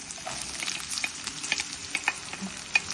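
Onions sautéing in oil with garlic, chilli, ginger and curry leaves for an aloo gobi sabji, a steady close sizzle with scattered crackles and stirring clicks, no voices.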